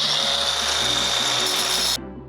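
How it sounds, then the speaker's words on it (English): A cordless grinder cutting into thick metal on a McLaren, giving a loud continuous high-pitched whine and grinding rasp that cuts off sharply near the end and leaves a lower fading hum. "I started with the handy dandy cordless grinder"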